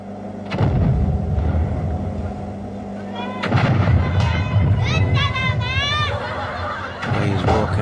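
Cannons on a Japanese game show fire balls at contestants, a loud thump opening the burst and another a few seconds later, under lively commentary, laughter and crowd noise.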